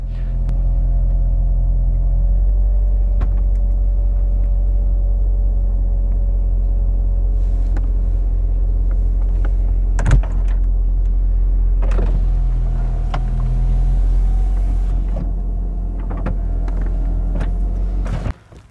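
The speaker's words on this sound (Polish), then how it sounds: "Dokładnie 16 sekund zajęło mi zamknięcie dachu w tym samochodzie, a to wszystko za pomocą jednego przycisku." Electric folding roof of a Mercedes SL55 AMG R230 V8 roadster cycling with a steady motor hum and low rumble for about eighteen seconds, with clicks and thumps near the middle and a final latch clunk at the end.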